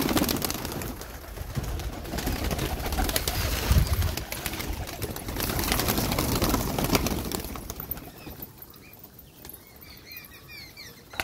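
Pigeons coo close by in soft throaty murmurs layered over a busy, rustling background, with fluttering and shuffling movement before things quiet down toward the end.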